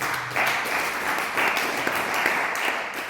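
A church congregation applauding during a sermon, a dense sustained wash of clapping that swells in waves, fairly loud and continuous.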